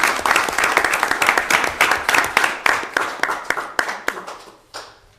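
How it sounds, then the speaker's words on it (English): A council meeting audience gives a retiring council member a round of applause: dense, lively clapping from many hands that thins out and fades to a few last claps. "I think we should clap again."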